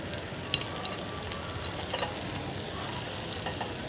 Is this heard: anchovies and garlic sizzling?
yes